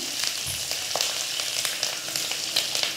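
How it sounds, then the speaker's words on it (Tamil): Garlic and green chilies sauté in oil in a clay pot for a mango fish curry, giving a steady close sizzle broken by a few sharp crackles and the scrape of stirring. "பூண்டு பச்சை மிளகாய் போட்டு நல்லா வதக்கிடணும்"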